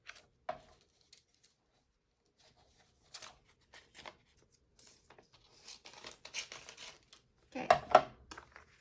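Scissors cutting paper for a homemade CD sleeve, a few quiet snips and crinkles scattered through near silence, with a louder burst of paper rustling near the end and a brief spoken word.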